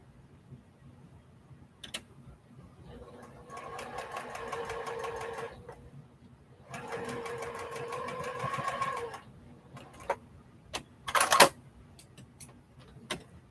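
A Juki sewing machine stitches quilt block pieces in two sustained whirring bursts of a few seconds each, with scattered mechanical clicks and taps before and after, close and fairly loud.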